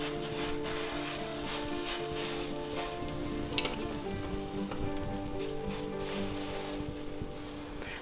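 Sandwich of roasted pork and cheese on garlic bread grilling in garlic butter, a steady close sizzle and crackle of frying with one brief louder pop near the middle.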